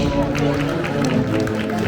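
Audience clapping at a Shapish dance festival in Chupaca, a dense, steady patter of many hands over crowd noise, with a voice calling out over it.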